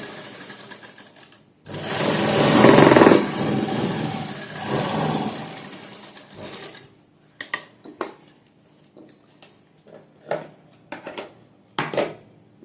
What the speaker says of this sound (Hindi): इसके बाद अब हमने यहाँ तक डबल सिलाई लगानी है।